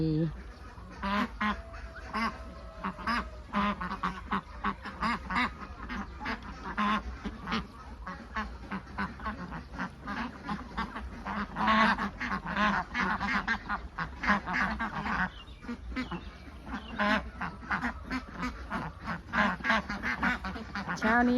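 Many laying ducks, Khaki Campbell among them, quack continuously in a noisy chorus on an overcast duck farm, some close and loud, forming a dense, restless outdoor racket.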